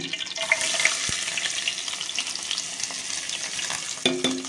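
Onion and green chilli sizzle in hot coconut oil with curry leaves for a tomato egg curry, a steady close crackling fry with occasional stirring clicks and a light scrape near the end, no speech.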